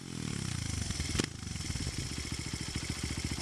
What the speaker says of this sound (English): Let's see if this thing will idle.